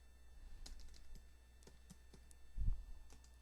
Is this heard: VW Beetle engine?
no